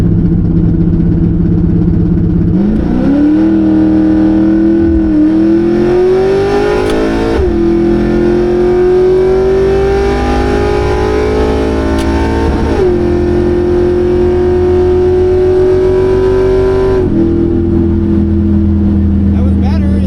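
LS2-swapped El Camino holding a loud low rumble, then revving up and launching hard while spinning one tire, the engine note rising and wavering for long stretches before dropping back, with voices heard over it.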